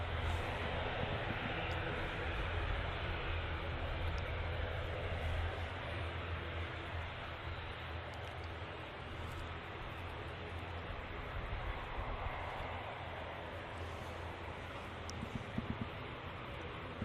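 An ATR turboprop airliner at Manchester Airport lining up and running on runway 23 left gives a steady, loud broadband engine roar that holds for the whole stretch, with no talk.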